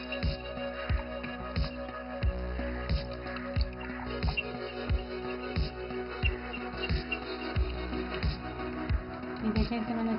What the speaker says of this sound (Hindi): सबसे पहले दही को फेंट लेंगे।